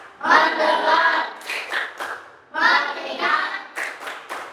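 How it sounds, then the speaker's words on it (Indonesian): A classroom group performs a rhythmic focus-clapping routine, with bursts of hand claps mixed with a chanted group voice, loud and close, pausing briefly midway before resuming. "sekali lagi, tepuk fokus"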